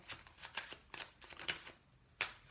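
Tarot cards are shuffled by hand in a series of quick, close papery riffles and slaps, several short bursts spread over a couple of seconds, with no talking over them.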